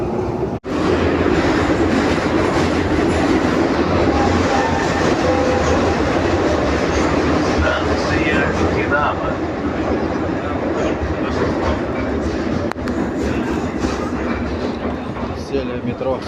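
A metro train rolls through an underground tunnel with a loud, continuous rumble and rhythmic clickety-clack of wheels on the rails, heard from inside the carriage, with a voice talking over it.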